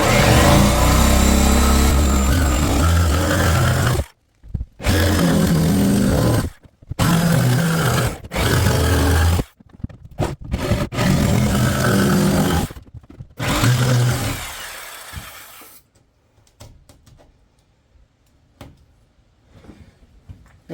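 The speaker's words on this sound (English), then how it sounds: "So now we can start the jigsaw hole there" A jigsaw cuts a window opening through a shed wall, buzzing loudly in several long stretches broken by short silences, then trailing off into quieter intermittent sawing and handling noises.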